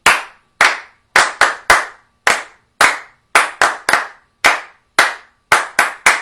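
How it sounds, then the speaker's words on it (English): Sharp, close handclaps ring out one after another in an uneven rhythm, about a dozen of them, each with a brief echoing tail in a quiet room. "I think I could hear some people clapping out there."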